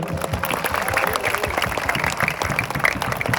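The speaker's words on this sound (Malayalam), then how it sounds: "ഒരു നല്ലൊരു പടക്കം പൊട്ടുന്ന കയ്യടി കൊടുത്താണ്" An audience at an event applauds the organisers with brisk, continuous clapping, dense and moderately loud throughout.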